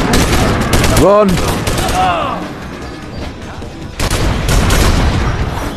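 Loud, close bursts of rapid gunfire ring out in the VR game BONELAB, with a shouted voice between volleys and a short gap before the shooting resumes.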